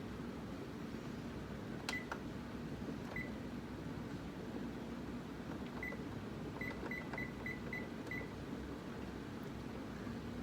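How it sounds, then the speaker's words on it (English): Several short, faint electronic beeps from a kitchen timer being set for 15 minutes over a steady background hum, a few isolated then a quick run of beeps near the end, like buttons being pressed. "Okay, the timer is set for 15 minutes"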